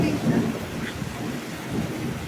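Thunder rumbling through a heavy rainstorm, a low, rolling boom over the steady hiss of rain, loud and sustained throughout, with a voice faintly present underneath.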